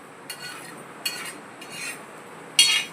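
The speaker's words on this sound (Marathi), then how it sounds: "असं मी भाजून घेते तांदूळ." Rice is dry-roasted on a hot griddle, with soft scraping and stirring strokes from a metal utensil, a few light clinks, and a sharper scrape at the end, all quiet and close.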